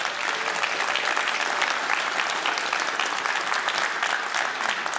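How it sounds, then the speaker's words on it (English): An audience at a university address breaks into steady, sustained applause, a dense even wash of clapping that holds for several seconds. "So if you would give him a little round of applause."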